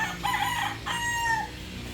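A white straight-comb broodcock rooster crows twice in close succession, loud and near, the second call longer and drawn out, with no voices over it.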